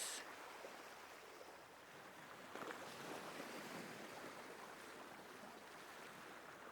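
Ocean waves washing onto a sandy shore make a soft, continuous rushing surf, faint and distant, gently swelling and receding without any talking.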